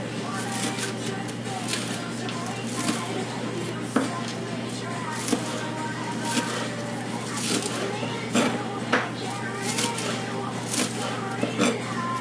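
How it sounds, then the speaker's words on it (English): A knife chopping onion into small pieces on a board, with quick irregular taps repeating throughout amid steady kitchen background hum, while a person talks. "You're just going to chop this into little pieces"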